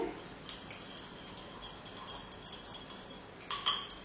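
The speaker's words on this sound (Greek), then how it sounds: "ανακατεύουμε" A cosmetic serum mixture with ivy extract is stirred in a container, giving faint, sparse clinks and taps against a quiet background, with a brief cluster of sharper clinks near the end.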